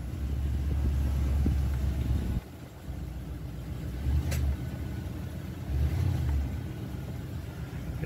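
A Nissan NV van engine runs with a steady low rumble, dipping briefly and then swelling twice in short revs as it is put in drive.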